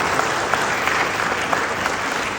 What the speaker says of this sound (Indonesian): kita berikan apresiasi kepada Ahmad Khalil